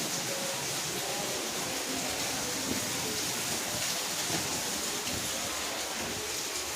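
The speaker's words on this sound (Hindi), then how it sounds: "ये देखिए कितनी तेज बारिश है" Heavy rain pours down in a steady, even hiss that never lets up, heard from a rooftop, moderately distant.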